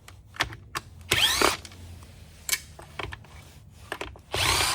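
A power screwdriver backs screws out of a Shark Navigator vacuum's housing, with several short whirring bursts separated by clicks and handling taps, close and fairly quiet.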